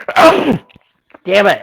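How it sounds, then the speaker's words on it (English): A person sneezes once, sharp and close, then a brief pause before more voiced sound; people talk around it. "I sneezed."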